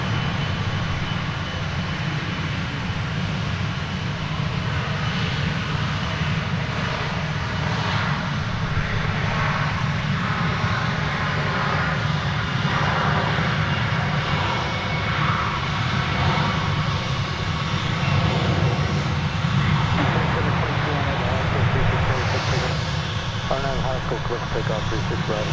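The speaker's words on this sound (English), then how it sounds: "It's an A319, and it's also a 20th century plane." Airbus A319 engines roar steadily at DFW Airport, a loud continuous broadband drone filling the whole stretch with a speaking voice running underneath.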